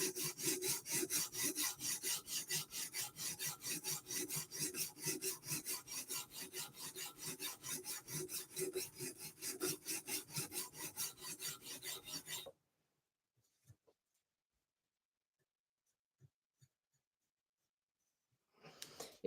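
A MicroTech Stitch knife is drawn across UKSG sharpening stones in steady, rhythmic rasping strokes for about twelve seconds, close and distinct, then the sound stops and near silence follows with a few faint knocks.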